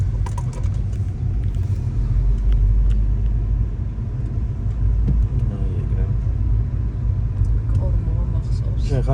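A car on a driving-lesson route in Gori rumbles with a loud, steady low engine drone that carries throughout, and voices can be heard in the cabin at times.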